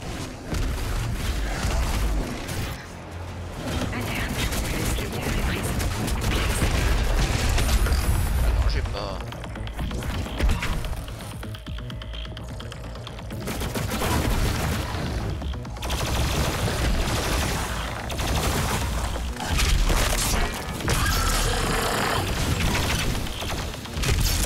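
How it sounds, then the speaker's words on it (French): BFG 10000 firing in Doom Eternal amid dense, loud gunfire and booming blasts with mechanical clatter, continuous and chaotic, with game voices heard over the din. "Alerte, le BFG 10000 tire."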